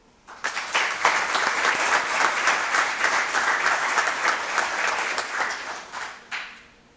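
At a county board meeting, the room gives scholarship recipients a hearty round of applause that starts abruptly, holds a full, steady clatter of many hands for several seconds, then tapers off with a last few claps.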